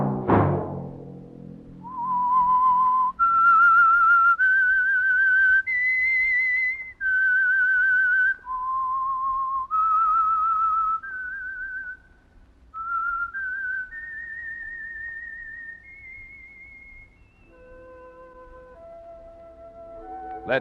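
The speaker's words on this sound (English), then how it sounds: "Let that whistle be your signal for the Signal Oil program, The Whistler" A lone whistler carries a slow, eerie melody of long held notes that rise and fall, the radio theme of The Whistler, clear and close with no other sound beneath it.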